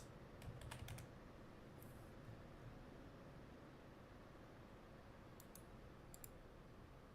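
Computer keyboard typing during an online truck-driving game session, a few faint clustered key clicks over a steady hiss of background noise, with no talking.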